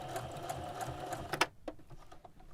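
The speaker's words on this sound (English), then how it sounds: "So I'm gonna do a additional top stitch every 1/4 inch" Sewing machine top stitching with a quarter-inch quilting foot on a smock apron, a steady close whirring run that stops abruptly partway, followed by faint handling clicks.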